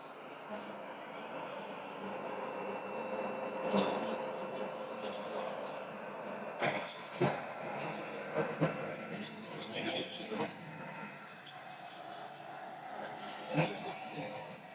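A Vax Platinum SmartWash carpet cleaner running in dry-only mode gives a steady motor whir over carpet, with brief knocks and bumps as it is moved, and a voice talks intermittently over it.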